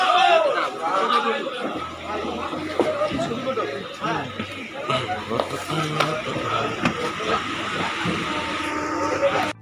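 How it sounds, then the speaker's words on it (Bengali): A passenger train pulls into a busy station on a crowded morning, its low rumble running steadily under loud crowd chatter and nearby people talking throughout. "চলে এসছে আমাদের ট্রেন"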